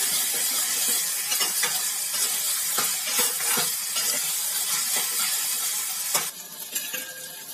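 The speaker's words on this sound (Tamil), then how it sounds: "இப்போ நல்லா சேர்த்து வதக்கி விட்டுக்கிறோம்" Tomatoes, garlic and onions sautéing in hot oil, a loud continuous sizzle with repeated scraping stirs of a spoon against the pan, close up and without voices.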